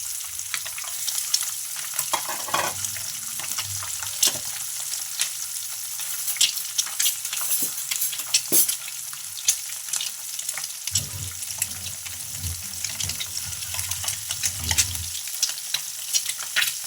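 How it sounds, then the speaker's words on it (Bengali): Whole eggs fry in hot oil with chilli in a pan, a dense, steady sizzle running the whole length with intermittent stirring scrapes and soft knocks, close up and unaccompanied by speech. "দেখো ডিমগুলো ভাজা হয়ে যাচ্ছে, লাল করে ভেজে নিয়েছি"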